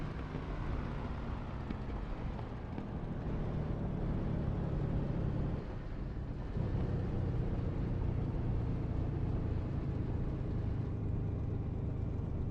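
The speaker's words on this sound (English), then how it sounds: "I do like that with this new engine sound, it gets that bit louder from reflected sound from the runway" Aircraft engine in a flight simulator game, with the aircraft on a runway: a steady, fairly loud droning roar that runs continuously with a slight dip midway and no speech.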